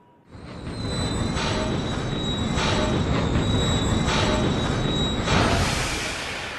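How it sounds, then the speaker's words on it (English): A train rolls slowly to a stop, wheels squealing in a high metallic whine over a steady rumbling of railcars, loud and close, ending with a brief hiss of release. "The train slowly came to a stop."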